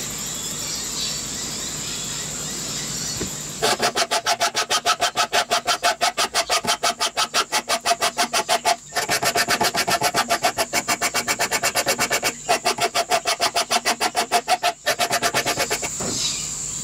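Hand filing and sanding of a part for a DIY Vixie clock makes a rhythmic rasping stroke, fast and steady with brief pauses, close and fairly loud.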